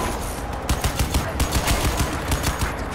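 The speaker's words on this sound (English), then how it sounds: "Move into the gunfire!" Rapid, dense bursts of automatic gunfire in the video game Crysis 2 crackle continuously, loud and close, with no pauses.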